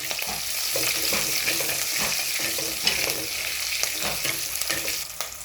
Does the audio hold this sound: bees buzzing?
no